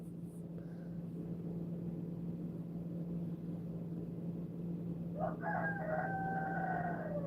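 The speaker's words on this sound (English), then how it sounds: "my youngest rooster just crowed" A young rooster crows once, a clear drawn-out call that rises near the end over a low constant hum in the background.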